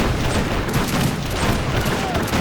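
Dense, continuous volleys of mortar and gunfire in the real-time strategy game Age of Empires 3: Wars of Liberty, with overlapping blasts and crackling shots forming a steady, loud barrage throughout.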